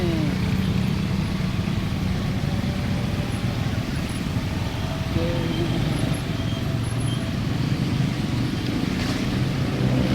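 A vehicle drives through flood water on a road in Malang after rain, giving a loud, continuous rushing and splashing wash with engine rumble up close throughout, and no talking.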